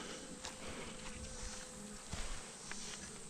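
Honey bees drone and buzz continuously around a beehive, a soft, faint, steady hum with occasional closer passes.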